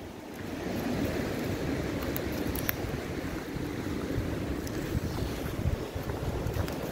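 Strong wind gusting outdoors on a blustery day, a loud continuous roar buffeting the microphone with rumbling low gusts and occasional faint knocks, no voices present.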